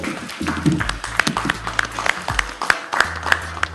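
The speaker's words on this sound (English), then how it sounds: "Please applaud" Audience applause at a political address on legislative–executive harmony in Delta, sparse distinct claps over a low steady hum, fairly near and moderately loud.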